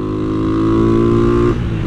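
A Honda CG motorcycle engine holds a loud, steady rev for about a second and a half, then drops off and settles into a rougher idle.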